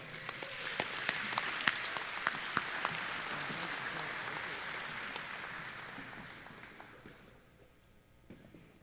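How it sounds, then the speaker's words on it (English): Banquet audience applauding at a transportation department safety awards ceremony, a steady roomful of clapping with a few sharp claps standing out, gradually thinning and fading away near the end. "let's give him a round of applause."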